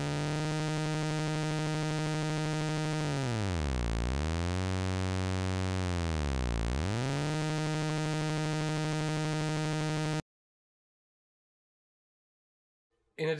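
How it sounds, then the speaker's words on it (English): A steady buzzy exponential FM synthesizer tone whose pitch sweeps down in a smooth dive, holds low, then glides back up, before cutting abruptly to silence. "Here's the exponential FM, a very different pattern in sound."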